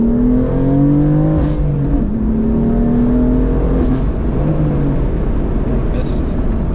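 A BMW M4 engine revs hard under acceleration, its rising drone dipping as a shift to fourth gear is missed, then climbing again in a loud, steady in-cabin roar.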